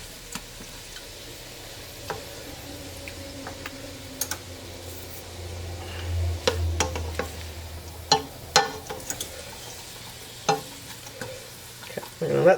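Onions and celery softening in a pan with bacon for clam chowder, a low steady sizzle under frequent sharp clicks and scrapes of a utensil stirring against the pan.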